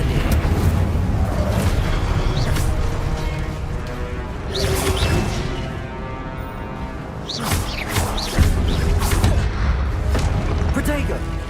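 Incendio fire spell cast in Hogwarts Legacy amid heavy combat, a continuous loud roar with repeated booming crashes and thuds rising and falling over several seconds, close and dense.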